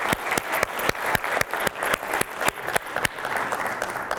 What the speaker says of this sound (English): I do want to ask everybody to give another round of applause to Dr.